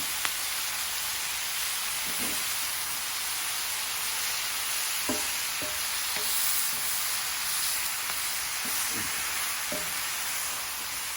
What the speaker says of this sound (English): we're just going to let this saute down